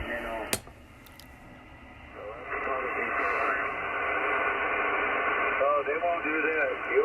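Single-sideband voice signal received on a Yaesu FTdx10 transceiver, a steady band of hiss with garbled, warbling speech-like tones rising after a brief click, moderately loud throughout.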